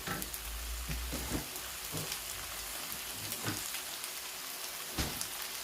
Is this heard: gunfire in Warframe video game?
no